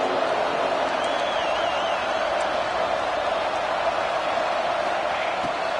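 Ole Miss football stadium crowd before a big third down, a dense, continuous roar of many voices with scattered whoops, loud and steady throughout.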